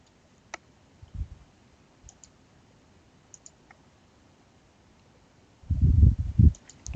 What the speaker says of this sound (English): We'll click these three dots.